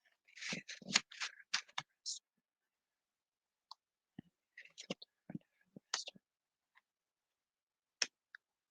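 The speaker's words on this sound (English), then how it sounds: "I kind of want to shuffle that one more time" Tarot cards are shuffled in a quick dense burst of soft riffling and flicking, then a few sparse clicks and taps follow in a quiet room, with some soft whispering.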